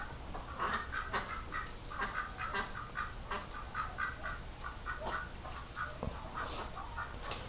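Ducks quack and chatter steadily nearby, a busy overlapping flock calling in short repeated bursts throughout, with no talking.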